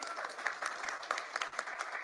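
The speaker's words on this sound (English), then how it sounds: "You can clap, it's okay." Audience applause at a press update after news of a cancer cure, a moderate spread of claps with scattered louder bursts over two seconds.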